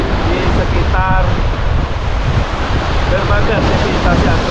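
Big waves and strong gusting wind roar at a fishing pier in Central Java, Indonesia, a loud, constant rush of surf and wind buffeting the microphone with no break.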